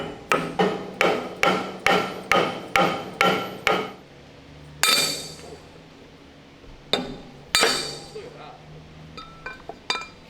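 A hammer taps a shaft into a bearing on a Panzer I Ausf. B under restoration: about nine quick, evenly spaced ringing metallic blows, then a few slower, louder strikes and some lighter taps, close and loud.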